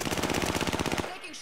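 Automatic gunfire in the video game Rebirth rattles off as a rapid, loud burst of closely spaced shots for about a second, then cuts off abruptly.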